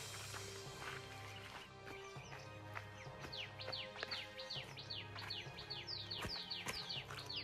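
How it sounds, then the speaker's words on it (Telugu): A bird in dense forest repeats quick, bright chirping calls in a steady run of short notes, faint and somewhat distant over low background noise and footsteps. "ఇప్పుడు సౌండ్ వచ్చింది కదా, పిట్ట సౌండ్."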